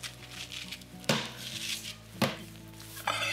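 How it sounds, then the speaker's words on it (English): Seeds are scooped out of raw pumpkin pieces with a utensil, a few sharp scrapes and knocks against a hard surface at irregular intervals, close and fairly quiet, with no talk. "I'll scoop out the seeds."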